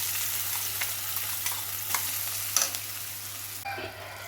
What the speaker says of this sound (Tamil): நம்ம இந்த அரைச்சி வச்சுருக்கிற மாங்காய் பேஸ்ட்டு இதை போட்டுறோம்